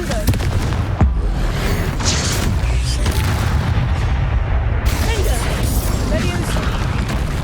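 Confringo spell explosion in Hogwarts Legacy, loud booming blasts and crackling impacts over dense combat noise, with a couple of sharp hits standing out, and a voice present.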